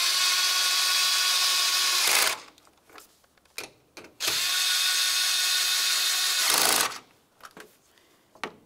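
A handheld power tool drives 8mm-headed bolts into the body of a 2012-2019 Ford Explorer during thermostat housing work, with two loud, close bursts of whirring, each about two seconds long, separated by small clicks and handling noises.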